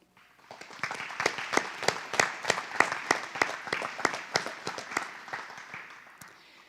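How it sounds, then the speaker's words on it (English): Applause at a college commencement ceremony for honorary degree recipients. A few people clap in a regular rhythm, moderately near, building quickly and fading out after several seconds. "please join me in a round of applause for our honorary degree recipients as part of the class of 2021"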